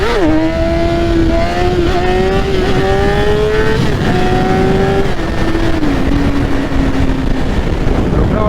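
A BMW S1000RR sport motorcycle revs hard with the throttle held open, its engine tone climbing and dipping in steady steps as the clutch is kicked for a wheelie. Loud and close throughout, with possible faint talk underneath.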